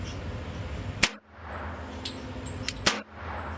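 A CZ 97 B .45 Auto pistol fires mixed ammunition with the lights off: two sharp, loud shots about two seconds apart, with a few fainter clicks between them over steady background noise.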